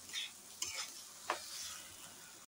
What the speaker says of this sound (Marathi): हे बघा, असं चांगला मोकळा मोकळा होईपर्यंत चांगला तुपात असा भाजून घ्यायचा आहे।